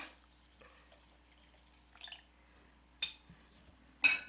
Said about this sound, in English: Ooh, the water's splashing all over the place.